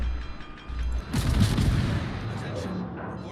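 Warship main battery guns in the World of Warships video game fire in a dense burst of deep booming blasts and rumbling gunfire, loud and layered over a continuous low battle drone.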